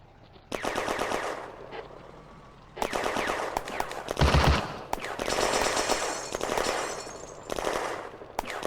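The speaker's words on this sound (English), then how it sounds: "But their machine gun still fires." Sustained machine-gun fire in the World War II video game Firefight, at Bléneau railway station in June 1940: loud rapid bursts repeating in long stretches with short pauses between them.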